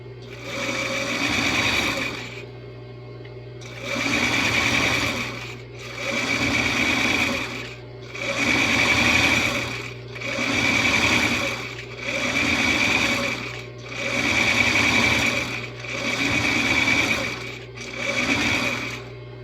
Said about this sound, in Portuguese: Tem que passar uma costura de reforço.